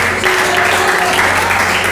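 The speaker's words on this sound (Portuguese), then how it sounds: "Pode bater palmas e glorificar." A church congregation at a communion service claps loudly and continuously, a close, dense wash of hands with a steady low hum beneath.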